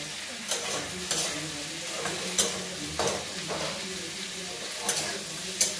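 Onions and potatoes fry in a pan with a steady soft sizzle, broken by periodic scraping stirs of a spoon, close but fairly quiet.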